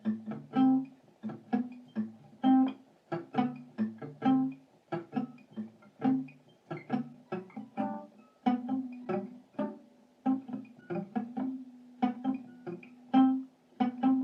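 Acoustic guitar plays the introduction to a song by picking individual strings, a steady run of plucked notes close up and alone with no voice.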